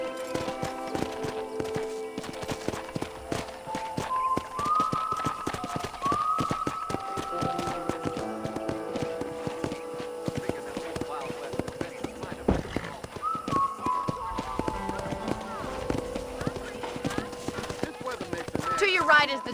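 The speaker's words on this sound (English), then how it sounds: "let's see if you can still ride a horse." Steady clip-clop of horse hooves on a ranch in the video game Red Dead Redemption, continuous rhythmic hoofbeats running under a character's spoken dialogue and light music.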